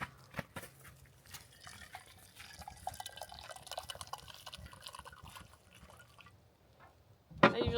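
Coffee poured in a steady trickling stream for several seconds at a camp near the Outer Banks, close and fairly quiet, ending with a louder clatter.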